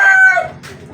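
A rooster crows loudly and close by in a single drawn-out call, with chickens clucking underneath in a low, rapid patter.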